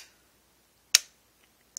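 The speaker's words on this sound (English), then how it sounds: "that noise you hear is the shutter flying around" A single sharp mechanical click of a Nikon D3100 DSLR shutter, with the mirror locked up, snaps close by in quiet surroundings, followed by a tiny softer tick moments later.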